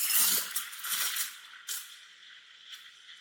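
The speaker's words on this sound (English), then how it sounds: "Or like this, with a big, aggressive hiss." Espresso steam wand aerating milk with a big, aggressive hiss: a fairly quiet, airy rush that is strongest at the start and then fades, with a couple of brief sharp spurts.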